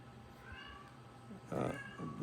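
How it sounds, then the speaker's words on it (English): A brain-damaged cat meows plaintively a few times, drawn-out, mournful cries close by, with the later ones louder. "those plaintive meows that you hear are his"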